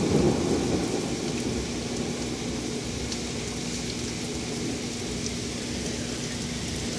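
Outdoor thunderstorm with heavy steady rain hissing on surfaces and a low rumble of thunder underneath, a constant wash of noise with no talking.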